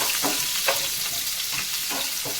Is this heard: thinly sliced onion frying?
yes